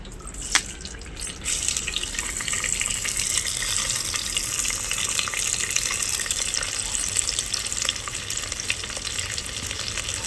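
Dry fish frying in plenty of oil for a brinjal and mango curry, a loud continuous crackling sizzle after a brief clatter at the start, with no voices.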